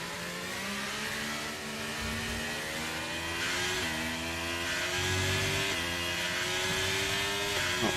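Racing car in a video game at the Brazilian GP, its engine revving hard through rising and stepping pitch sweeps as the wheels spin, loud and continuous with no talk.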